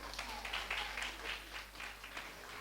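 An audience at the 26 September 2023 anniversary ceremony of the Sadguru Kabir Saheb Kripa Foundation gives faint, distant applause in uneven waves over a steady low electrical hum.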